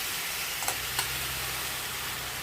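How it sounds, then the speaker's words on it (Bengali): Garlic frying in a pan for a Bengali dal bori, ridge gourd and potato posto dish, giving a steady, soft sizzle throughout with a couple of faint clicks. "রসুনটা দিয়েছি না, ভাজা ভাজা হচ্ছে, তলায় তলায় একটু একটু লেগে যাচ্ছে"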